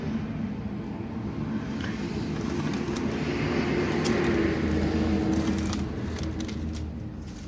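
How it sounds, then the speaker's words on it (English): A bus passes outside an open garage door on a chilly, sunny day, a broad rumbling whoosh that swells to a peak midway and then fades, heard from some distance with no talk. "Bus."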